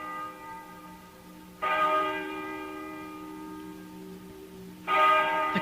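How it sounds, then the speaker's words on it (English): Church-like bell ringing in an old barn in a radio mystery drama: two strong, resonant strikes, each followed by a long ringing decay, heard alone and fairly close. "Listen to that bell"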